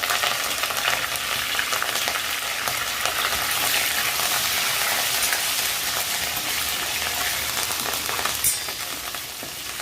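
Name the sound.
garlic and curry leaves sizzling in oil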